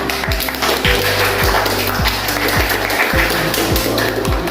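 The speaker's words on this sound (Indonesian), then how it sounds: "Ibu beri aplaus dulu untuk semuanya ya" A classroom of students claps for their presentations, a dense, close burst of applause with steady rhythmic thumps running through it for several seconds.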